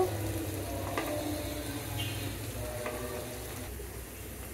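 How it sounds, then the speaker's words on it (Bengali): Onions fry lightly in a pan, making a steady, low, even sizzle with a few faint stirring clicks, no voices. "পেঁয়াজগুলোকে হালকা ভেজে নিব"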